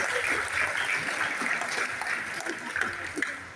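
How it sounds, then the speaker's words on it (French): Sustained applause from a crowd at a closing and prize-giving ceremony in Mauritius, a dense wash of clapping that continues evenly throughout. "je pense que ça mérite des applaudissements"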